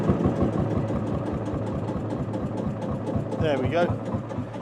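A two-stroke Marshall engine idles with a steady, chugging low thump at a regular beat, loud and close, while someone speaks briefly over it.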